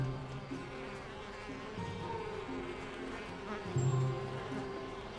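Bees buzz around in the video game Elroy and the Aliens, a droning hum that swells and fades over a low ambient bed, with no talking.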